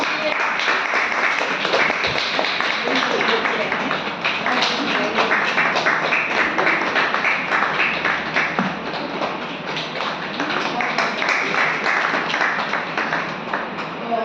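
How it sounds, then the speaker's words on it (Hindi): Audience at a stage event applauding steadily, a dense continuous patter of many hands clapping at an even level throughout, with no pauses. "तालियां बजती रहनी चाहिए।"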